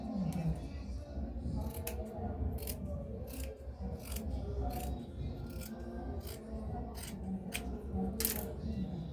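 Scissors trim a fabric band for a pencil skirt, giving repeated crisp snipping strokes in an irregular rhythm, close by over a steady low background rumble.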